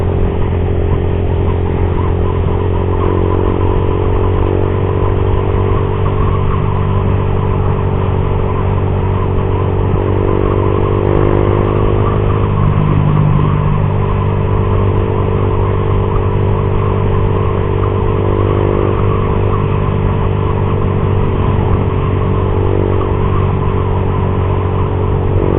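Suzuki GSX R150 motorcycle cruising on a road past rice fields, a steady loud engine drone with low harmonic hum and rushing wind throughout, no talking.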